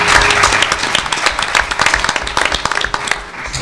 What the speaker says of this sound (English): let's just give a round of applause to our speakers